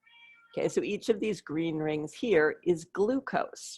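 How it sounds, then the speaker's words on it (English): A pet cat meows loudly for dinner in a home, its calls partly buried under continuous close speech from a person explaining chemistry. "And if you hear my cat meowing, do not worry."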